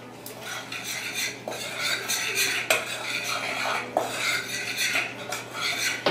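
Dry ingredients for gluten-free oatmeal chocolate chip cookies stirred in a bowl, a steady scraping and clinking of utensil against bowl with sharper knocks every second or so, close and continuous, no talking.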